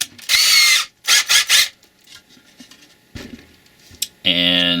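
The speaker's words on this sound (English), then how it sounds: "go ahead and get the drill," A handheld power drill boring holes during a projector mount installation, with short loud whirring bursts separated by pauses and quieter handling sounds, plus a final sustained whine.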